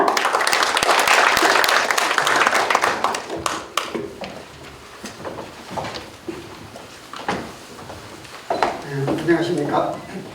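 Audience applause in a fourth-floor auditorium at an official industrial-complex ceremony, a dense burst of clapping that thins into scattered claps and knocks, with voices underneath toward the end.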